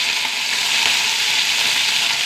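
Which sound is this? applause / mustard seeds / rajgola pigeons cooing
mustard seeds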